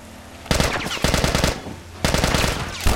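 Loud, close automatic gunfire in a video game, coming in three rapid rattling bursts separated by short pauses, with a fourth burst starting right at the end.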